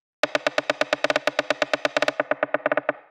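Rim shot layered with a snare in a raw techno pattern, played alone as a steady run of about two dozen sharp, evenly spaced hits; partway through the top end is filtered away and the hits turn duller and darker.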